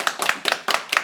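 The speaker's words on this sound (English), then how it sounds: "And we can give a clap for the lady." A small audience claps briefly at a Pop The Balloon dating show, five or so quick bursts of handclaps, close and loud.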